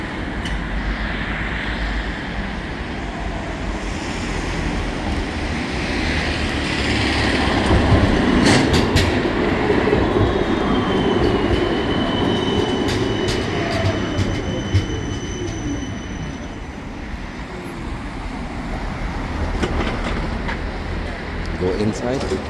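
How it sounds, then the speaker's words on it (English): A Budapest tram approaches and pulls in with a steady rolling rumble, rising in loudness to a close pass, with metallic wheel squeals and clatter over busy street background. "There's the tram coming."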